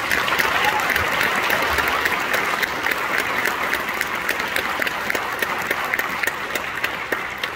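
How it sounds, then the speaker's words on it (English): A school spring-concert audience gives a choir sustained, dense applause, a steady wash of many hands clapping that fills the hall and holds evenly for several seconds. "one more round of applause for the choir and their performance."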